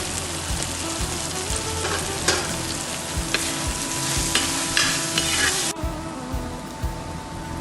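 Onions sizzle and fry in a pan with turmeric for kappa biriyani, a steady crackling hiss broken by scraping stirs and clanks of a spoon, close and continuous without talk.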